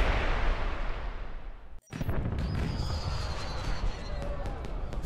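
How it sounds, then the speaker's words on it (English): Fireworks explosions in the James Bond 007: Blood Stone video game, a sudden loud burst after a brief drop to silence, followed by a dense crackling, popping barrage with sharp bangs and whistling streaks, filling the scene with no talk. "Did you know there were going to be fireworks?"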